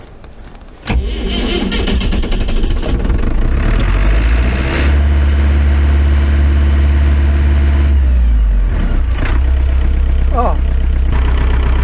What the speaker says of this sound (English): Let's just let it warm up a little bit and we'll try to use the snowblower to remove the snow.